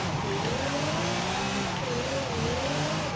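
Ferrari 599XX Evolution, a 2012 rear-wheel-drive car with a drift tune, in a racing video game, its engine droning steadily with wavering pitch as it slides, continuous and loud with faint tire squeal throughout, no talking.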